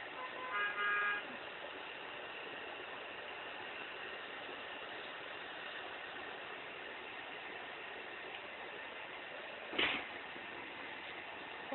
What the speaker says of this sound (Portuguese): Os carros passando na rua